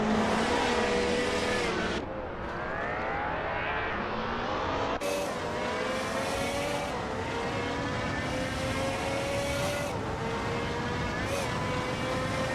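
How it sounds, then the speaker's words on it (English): A 1996 Opel Calibra DTM race car at speed on a circuit, its engine screaming loudly and continuously, the pitch climbing through each gear before abrupt shifts drop it again. "Ingo McCringleberry is driving a 1996 Opel Calibra DTM."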